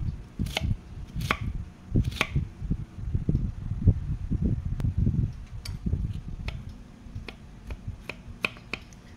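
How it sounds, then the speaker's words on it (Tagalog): Knife chopping a potato into small cubes on a cutting board, a quick run of close, sharp taps in an uneven rhythm, loudest at the start and easing toward the end. "Gagayatin natin siya ng cubes."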